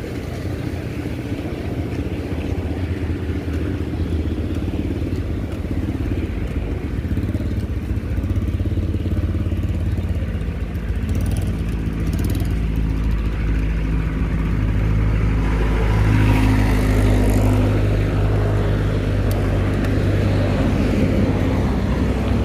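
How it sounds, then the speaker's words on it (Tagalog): Motorcycle engine pushing steadily during a short ride, a continuous low rumble and drone that swells louder in the second half, with no talk over it. "Yun, motor nagtutulak."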